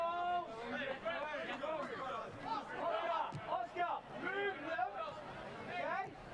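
Spectators at a Gold Coast Knights versus Devonport City Strikers Australia Cup football match fill the stadium with shouting and chanting crowd noise that swells and ebbs, fairly distant, with a commentator talking over it.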